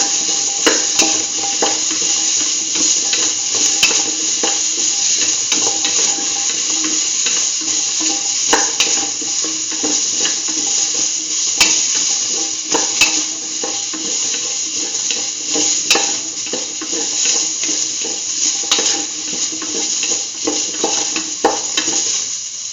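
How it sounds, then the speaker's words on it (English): Kidney beans and chayote sauté in a hot pan with a steady, loud sizzle, while a utensil stirs and scrapes repeatedly throughout, close up and continuous. "Keep on sauteing."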